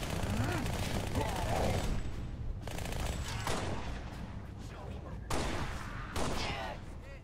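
Dense bursts of gunfire from the video game Halo: Spartan Assault, with rapid volleys and assault-rifle fire, loud and continuous, mixed with game sound and effects.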